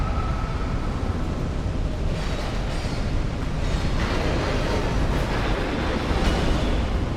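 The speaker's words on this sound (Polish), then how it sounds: "Okej, znowu będzie robił wybuch." A boss explosion in Dark Souls 2, a sustained loud rumbling roar that fills the whole stretch with broad, dense noise and slight surges partway through, with no talk over it.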